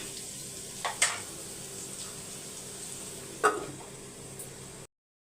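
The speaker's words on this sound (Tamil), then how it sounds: "வதங்கட்டும்" Vegetables sautéing in a pan for a Tamil lunch-box meal: a soft continuous sizzle with a couple of brief scraping stirs, quiet and close, ending abruptly in silence.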